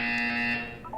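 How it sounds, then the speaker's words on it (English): A loud, steady electronic buzzer drones in the video game Portal 2, holding one harsh tone before fading slightly near the end. "You will hear a buzzer. When you hear the buzzer, look up at the ceiling."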